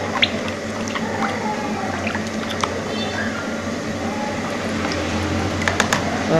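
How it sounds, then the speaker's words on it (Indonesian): Tapioca starch cake batter tinted with red coloring is stirred in a bowl, giving soft wet squishing and occasional light clinks, steady and close, while someone speaks in the background. "Ini aduk sampai rata warnanya ya bunda."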